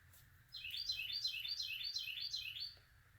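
A loud bird sings in the morning, a rapid series of about six bright, repeated chirping notes in one phrase lasting a couple of seconds. It is close and clear over a faint low background hum, with no voices.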